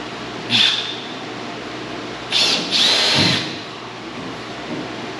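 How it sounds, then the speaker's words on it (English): Power drill boring a hole for a new door bar on a trailer, in a few short bursts: one brief whine, then two longer runs close together, close and fairly loud against a steady background hum. "got to drill it"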